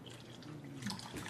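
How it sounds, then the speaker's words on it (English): Water is poured onto a tea bag in a cup, a faint, steady trickling splash running briefly and alone. "Watch what happens when I go to pour again."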